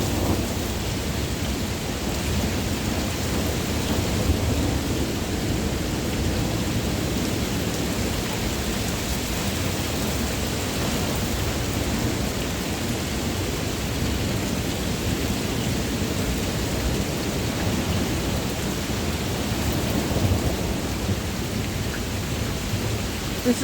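A thunderstorm pounds Cleveland with heavy rain, gusting wind and lightning, a loud continuous hiss of rain and wind with rolling thunder beneath it for the whole stretch.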